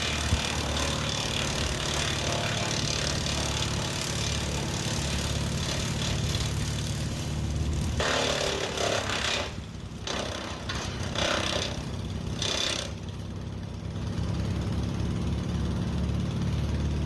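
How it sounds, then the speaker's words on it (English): A wood chipper engine runs loudly and steadily, then labours and dips as a branch bogs it down partway through, with grinding bursts before the engine note recovers and settles. "the branch kind of bogged the engine down a little bit"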